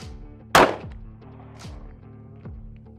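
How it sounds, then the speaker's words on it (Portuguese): A single sharp, loud 9mm pistol shot rings out, then decays into a fading echo, followed by fainter knocks and a low hum. "Vamos lá para o nosso último disparo."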